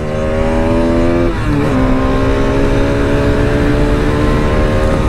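Motorcycles race with loud, close engines revving hard. A 220 bike and an RS run together, their pitches climbing and dropping as one shifts midway, then holding a steady high drone.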